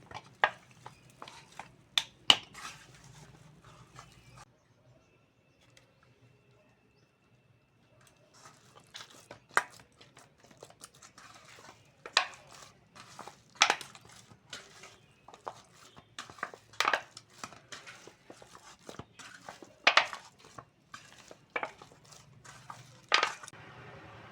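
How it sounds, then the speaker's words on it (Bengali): Naan dough kneaded by hand, quiet squishing and slapping with sporadic sharp pats, irregular and close, after a brief lull. "এরকম ভালো করে চটকে চটকে মাখাতে হবে যত ভালো করে মাখানো হবে তত নানটা ভালো হবে"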